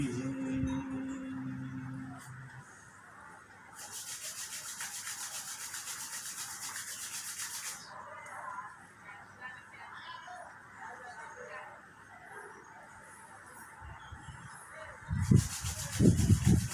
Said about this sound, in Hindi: एक बार फिर रब करें, रगड़ें